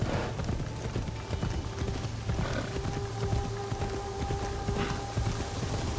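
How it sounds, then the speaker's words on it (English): A horse clip-clops at a steady trot through the world of the video game Assassin's Creed Shadows, with continuous rhythmic hoofbeats at moderate volume and a faint tonal hum underneath. "There is horse riding."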